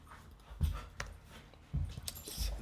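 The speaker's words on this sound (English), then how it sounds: "Excuse my dogs, they are wrestling and going crazy because that's what they do always." Dogs wrestling and playing in a room make muffled thuds, scrabbling and small yips and pants, coming in a few louder bursts over a low background without speech.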